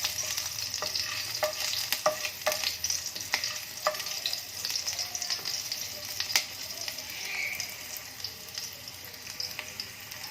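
Finely chopped green chili frying in oil in a frying pan, soft continuous sizzling punctuated by frequent sharp spatula taps and scrapes, close but fairly quiet, with no one speaking.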